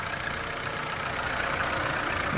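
A 2008 Opel Astra with a 1.4 petrol/LPG engine idles steadily, a close, even engine hum and hiss under an open hood, with no talking.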